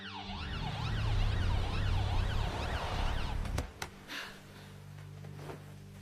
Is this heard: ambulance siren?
yes